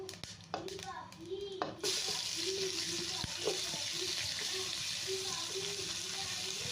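Onions and spices frying in a pan for paneer pulao give a steady broadband sizzle that jumps louder partway through as they hit the oil, with faint clinks and a voice speaking briefly in the background.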